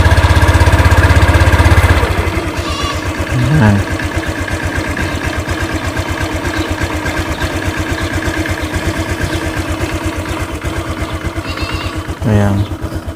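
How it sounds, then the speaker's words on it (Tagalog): An old motorcycle engine idles steadily with a rapid, even putter throughout, loud and close, with a few brief voices briefly over it. "para malaman nyo kung okay pa ba yung tunog ng makina."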